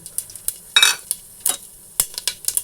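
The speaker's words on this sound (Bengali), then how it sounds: "এই মুগ ডাল একেবারে ফোড়ন দেব" Dried chili, cumin and a bay leaf hit a thin film of hot oil for a moong dal tempering, giving close bursts of sizzling crackle between sharp spoon-scrapes and pan clinks, with no voices.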